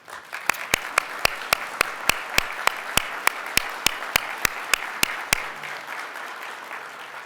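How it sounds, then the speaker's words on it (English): Steady applause from a crowd at a biohealth awards presentation, with a series of loud, evenly spaced sharp claps standing out near the front, fading to quieter clapping at the end. "we should all applaud this amazing artist"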